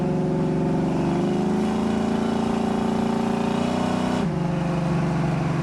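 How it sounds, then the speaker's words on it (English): Engine and exhaust of a 1971 Chevrolet Chevelle SS on a test drive, a loud, steady rumble holding pitch and rising slightly before a gear shift drops the tone near the end. "Exhaust note is right in tune of what I like."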